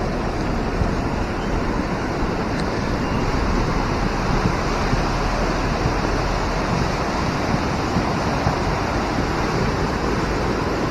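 The Lubuk Minturun river in Padang runs in flood after a whole night of rain, a steady, loud broadband roar of churning water with wind buffeting the microphone and no voices.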